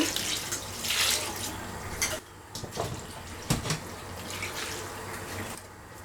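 Half a litre of water runs and splashes steadily into a pot of shredded red cabbage, with a few clinks and knocks of the pot mixed in, fairly close and moderately loud.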